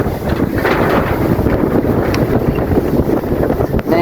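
Dry wind gusts hard across a rural Thai garden, roaring and buffeting the microphone in a loud, continuous rush with no voices.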